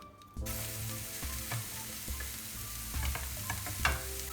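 Onions sautéing in hot oil in a pan, a loud continuous sizzle with frequent stirring clatters and scrapes, close up and without talk.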